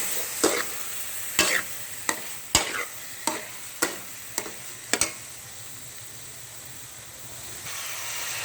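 Carrot halwa with cream and desi ghee is stirred in a pan, a spoon scraping in about ten distinct strokes over a steady soft sizzle, then the scraping stops and only the quiet hiss of the cooking continues.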